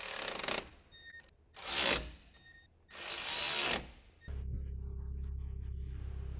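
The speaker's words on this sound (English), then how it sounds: "Use the medium 10mm shallow socket with the electric impact wrench." An electric impact wrench with a 10mm shallow socket drives the four mounting bolts of a radiator cooling fan and A/C condenser fan assembly in three short, close bursts, then a steady hum follows.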